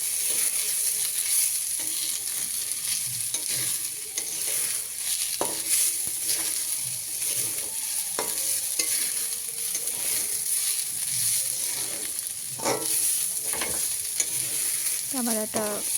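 Lentils for khichuri frying in a pan and being stirred, a steady close sizzle broken by frequent scraping and clinking strokes of the spoon against the metal throughout.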